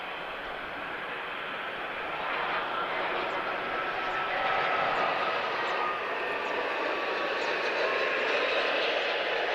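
A British Airways jet at Lisbon Airport makes a steady, loud, broadband engine roar that swells slightly and holds without a break for the whole stretch.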